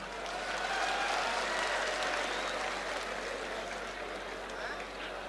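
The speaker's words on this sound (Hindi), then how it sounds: "और अब आपकी तालियां उठेंगी" Continuous applause rolls through a large political gathering hall, a dense and even wash of clapping from the crowd, moderately distant, with a low steady hum underneath.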